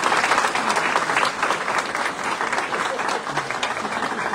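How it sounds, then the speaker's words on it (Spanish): Audience applause rings out in a church gathering after a blessing, a dense, steady wash of clapping that holds at full strength for the whole stretch, with faint voices mixed in. "Un aplauso."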